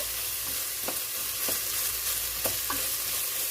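Beef salami soup bubbles and hisses steadily in a pot on the stove, while a spoon scrapes through it every second or so in occasional stirring strokes.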